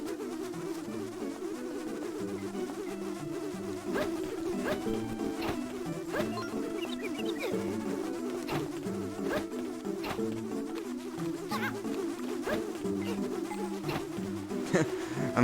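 Game buzzing of bees from The Legend of Zelda: Spirit Tracks, a steady droning hum running the whole time under looping music, with sharp repeated clicks and hits from the gameplay.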